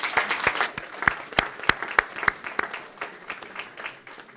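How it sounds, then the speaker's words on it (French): Audience applause at a commerce and regional development event, a small crowd clapping with distinct, irregular claps rather than a dense roar, steady through the clip. "Alors, on l'applaudit bien fort."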